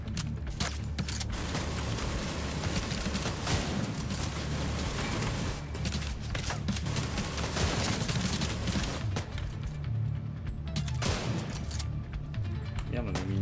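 Rapid gunfire crackles almost nonstop in The Division 2, a dense loud stream of shots with brief gaps, under the excited talk of players.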